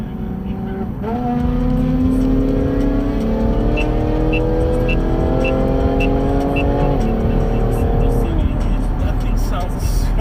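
A Porsche GT4 on the highway roars loudly and close, holding a steady engine drone with rising revs as it pulls past. People talk excitedly over the sound.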